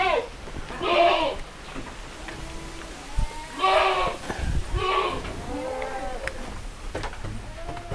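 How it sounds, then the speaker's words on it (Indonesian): Goats kept at a farm in Indonesia bleat several times in bursts, fairly close and loud, with pauses and low background noise between calls. "Ini kan kambing-kambing saya yang tak gaduin di sana."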